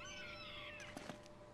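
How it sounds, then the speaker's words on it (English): A cat meows indoors, a clear drawn-out cry close to the mic, followed by a couple of softer short sounds, with video game audio faintly underneath. "My cat's here."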